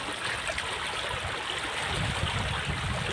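Steady rushing waist-deep floodwater from Typhoon Ferdie flowing continuously, a broad even wash of sound with no pauses and no voices.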